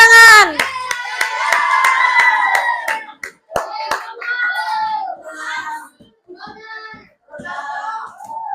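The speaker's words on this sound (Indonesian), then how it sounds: "Tepuk tangan." Children clap their hands in a classroom, a quick scattered burst at the start followed by a few sharp isolated claps, while a teacher and kids talk over and between them.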